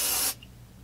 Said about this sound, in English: If I want it to look less frizzy, I'll put a shine spray in.